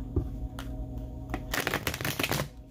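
A deck of tarot cards being shuffled by hand, with soft papery riffles and slaps that grow into a dense, close burst of card flutters in the second half, with no talking.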